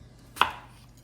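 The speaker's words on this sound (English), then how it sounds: "cut them nice and thin like that." A single knife stroke slicing an apple thin, one short crisp cut near the middle, close and clear against a quiet kitchen background.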